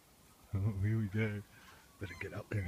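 Geese honk loudly in two bursts of harsh, nasal calls near the listener, followed by a few shorter honks after a brief pause.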